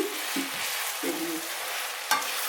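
Mushrooms and minced meat frying in a wok, stirred with a utensil: a steady close sizzle with a few scraping strokes and a sharp clink near the end, no voices.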